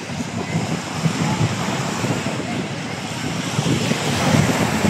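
Sea waves at high tide wash and roar continuously along the shore, loud and close, mixed with wind buffeting the microphone.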